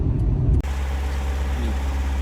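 Car pulling up and settling behind a work crew: a loud rumble at the start drops abruptly into a steady close idling engine drone that continues alone.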